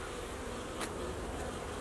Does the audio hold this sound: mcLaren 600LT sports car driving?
no